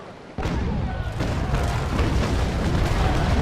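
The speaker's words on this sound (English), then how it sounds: "Just you and me and my 10 cannons." Ship cannons fire a broadside in the naval battle game Naval Action, a burst of loud, close booms in quick succession rolling into a sustained thunder of shots.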